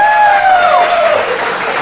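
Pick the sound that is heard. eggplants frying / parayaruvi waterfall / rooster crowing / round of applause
round of applause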